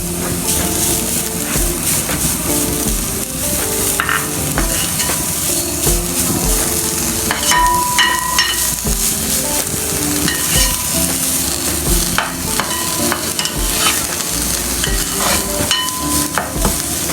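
Chicken pieces fry with capsicum in a hot pan for a club sandwich filling, a loud continuous sizzle with repeated spatula stirring and scraping close up, and no speech.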